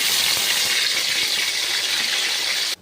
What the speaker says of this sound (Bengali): এই তেলেই সাদা জিরে ফোড়ন দিয়ে দিলাম, একটা এলাচ ফোড়ন দিয়ে দিলাম।